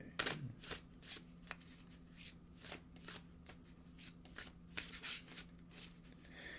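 A deck of oracle cards being shuffled by hand, a rapid series of soft riffling and slapping bursts heard close up over a low steady hum.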